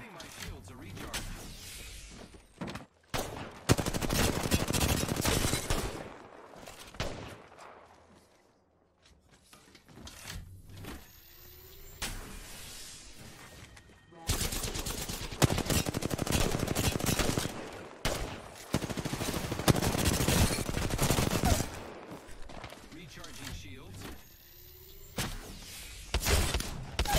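Bursts of automatic gunfire from an Apex Legends match come in repeated loud volleys with short gaps, mixed with thuds and mechanical clicks, while a player's voice talks over parts of it.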